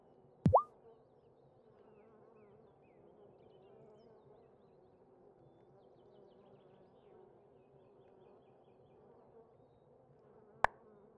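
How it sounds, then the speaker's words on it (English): Soft, continuous insect-like buzzing of a honeybee in the video game Wylde Flowers, steady and faint for the whole stretch, bracketed by two brief sharp game sound effects near the start and end. "Honeybee."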